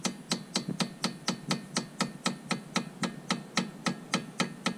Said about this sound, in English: I just have like a nice soft hammer here, just go ahead and tap this in.